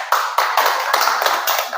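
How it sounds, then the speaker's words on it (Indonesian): Audience applause at a worship training session, a short burst of brisk hand clapping, close and fairly loud, with uneven rhythmic bursts throughout. "Tepuk tangan dong buat."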